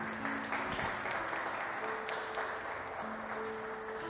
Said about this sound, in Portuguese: Dê um aplauso para o Senhor por isso